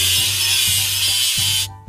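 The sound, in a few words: sanding a welding seam on a ship in a video game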